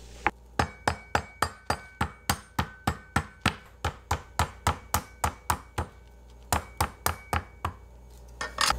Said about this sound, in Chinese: 现在就用刀背 沿着这个一圈敲打，然后它就会自己开了